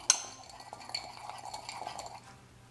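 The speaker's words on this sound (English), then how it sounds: "Stir this all around." A spoon stirring a dry spice mix of crushed red pepper and black pepper in a small dish, starting with a sharp clink and then soft scraping and light tinkling, close and quiet.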